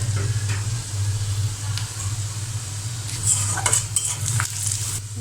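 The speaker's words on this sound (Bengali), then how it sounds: "পেঁয়াজটা ভাজি করা হয়ে গিয়েছে, আমি বাকি মশলাটা দিয়ে ভালো করে কষিয়ে নেব" Sliced onions fry in a pan for an egg and potato curry as chili, coriander and turmeric powders, salt and cumin paste are stirred in. A steady close sizzle runs throughout, with scraping stir strokes and a low hum beneath.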